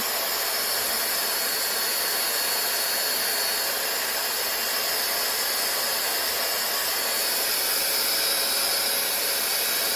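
A Dyson device runs in an original-versus-counterfeit test, giving a loud, steady, high whooshing hiss of motor and airflow that holds unbroken and close throughout.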